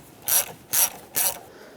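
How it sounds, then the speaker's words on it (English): A 10mm socket wrench ratchets while loosening the negative battery terminal nut on a 2012-2017 Honda Accord, giving three short, close, evenly spaced ratcheting bursts against a quiet background. "Use a 10mm wrench or socket and loosen up the mounting nut on the negative terminal"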